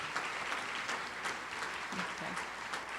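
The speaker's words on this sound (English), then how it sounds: "Please join me in giving one more round of applause for these wonderful students." Audience applauding students at a Martin Luther King event, an even, sustained round of clapping from a crowd with faint voices mixed in.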